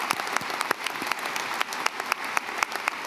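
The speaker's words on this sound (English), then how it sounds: "If you could stand up so we can give you a round of applause" Graduation audience at a commencement ceremony applauds at moderate volume, a steady wash of clapping with individual sharp claps standing out near the listener.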